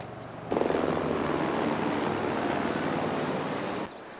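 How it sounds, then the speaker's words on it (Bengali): A helicopter flies over the Annapurna trekking trail near Deurali in Nepal. Its steady broadband rotor and engine roar swells in suddenly and holds loud and close for about three seconds before cutting off, with no talking. "হেলিকপ্টার আওয়াজ শোনা যাচ্ছে"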